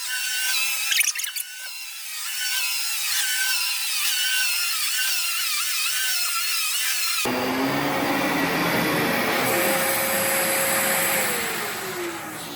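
A Dyson DC17 Absolute vacuum cleaner runs on carpet, first as a sharp, high-pitched whine and then as a fuller, steady roaring suction that holds loud and close to the end.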